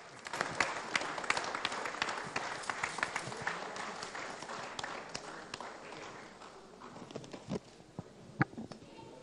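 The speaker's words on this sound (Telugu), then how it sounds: "అందరు కూడా గట్టిగా క్లాప్స్ అండి ఎవ్రీవన్" Scattered audience clapping at a movie audio launch event, uneven and moderately distant, with sharp individual claps standing out over a busy crowd background that thins toward the end.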